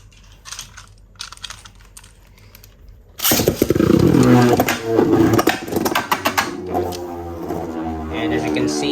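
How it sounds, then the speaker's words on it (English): A World Spriggan Beyblade, outer rubber layer on its driver, launched in right-spin mode into a stadium: a sudden loud whirring, scraping spin begins after a quiet start and continues steadily, gradually easing, with a faint voice early on. "We will now test spin World Spriggan in right spinning mode."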